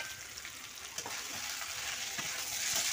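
Potatoes and papaya fry in spiced oil, a continuous bright sizzle broken by scattered soft taps and scrapes of stirring, close and fairly quiet.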